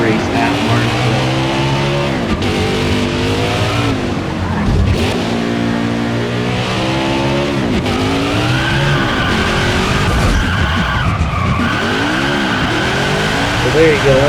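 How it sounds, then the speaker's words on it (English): Race car burnout in the NASCAR Heat 5 video game before the Martinsville Cup race: continuous loud engine revving with sweeping pitch and steady tire squeal, under a voice speaking throughout. "So now we're going to do one final part of our burnout here"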